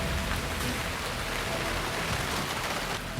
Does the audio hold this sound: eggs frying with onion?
no